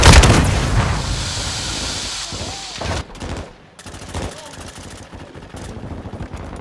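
Heavy gunfire and explosions in the video game Call of Duty Modern Warfare 2, with dense rattling bursts and booms up close, while a player shouts over the noise.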